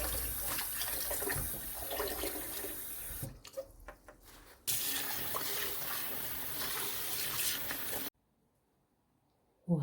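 Grape leaves being washed under a running kitchen tap: a steady rush of water into a sink, briefly interrupted by handling sounds, then cut off near the end.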